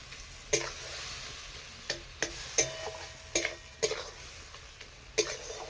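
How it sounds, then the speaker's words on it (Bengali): Masala paste for a prawn kofta curry with chopped coriander is stirred and sautéed dry in a pan, its soft steady sizzle broken by several sharp scraping clinks of a spatula against the metal. "একবারে শুকনো শুকনো কষে দেবো এটাকে"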